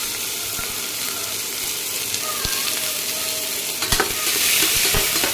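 Small shallots frying in a pan for a goat blood fry, a steady close sizzle with occasional stirring knocks, growing slightly louder toward the end, with no talk.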